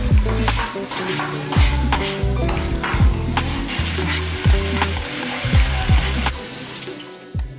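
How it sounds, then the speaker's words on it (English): Garlic frying in oil in a pan, a loud close sizzle with repeated scraping and stirring strokes of a utensil across the pan, steady throughout with no voices. "you want to add the oil to the pan and then the garlic. Let that cook for a minute or so"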